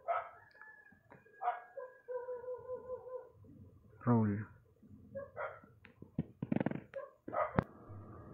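Neighbourhood dog barking at night, sharp loud barks and yelps at intervals with a rooster-like howl mixed in, close by, heard over a person talking quietly indoors.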